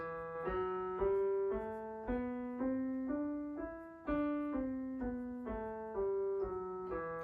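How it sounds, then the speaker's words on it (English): A melodic instrument plays the E natural minor scale up and then back down, one sustained note at a time in an even, steady rhythm. "So that is the E natural minor scale."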